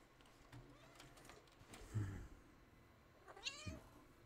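A pet cat called Miss Kitty meows loudly, two drawn-out cries close by, the second rising and higher-pitched, with quiet background between.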